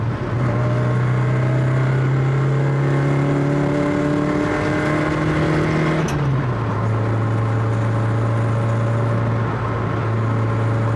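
A 1975 Toyota Corolla KE35 engine drones loud and steady from inside the car, then its pitch drops abruptly about halfway through as it shifts down and settles at a lower, rougher hum, with no talking.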